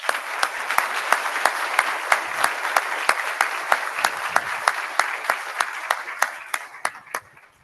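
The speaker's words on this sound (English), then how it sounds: "Let's give them a round of applause." A city hall audience at a police promotion ceremony gives a round of applause, with a few loud individual claps standing out over the dense clapping, which fades out near the end.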